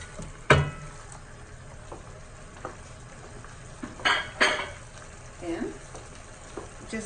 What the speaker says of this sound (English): Just stir it